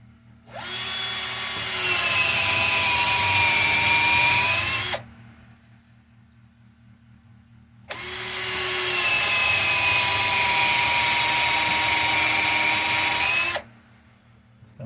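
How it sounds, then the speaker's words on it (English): A power drill whines loudly in two long bursts of about five seconds each, boring into black walnut end grain, separated by a quiet pause, with a steady low hum underneath throughout. "We'll drill some holes to put our dowel rod in."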